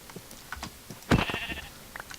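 A short sheep bleat in Minecraft rises out of sparse clicks and taps, nearby and fairly clear, followed by a few more soft clicks.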